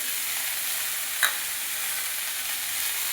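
Food with turmeric fries quietly in a pan, a soft steady sizzle close by with a single brief clink of a utensil partway through and no voices.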